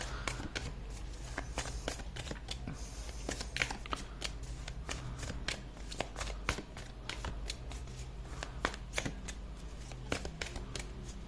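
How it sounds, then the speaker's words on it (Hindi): Tarot cards shuffled and drawn by hand, a long run of quick papery riffles and flicks in an uneven rhythm, close and fairly soft, continuing through the whole stretch. "एक और कार्ड ले लेते हैं to get a little insight about this"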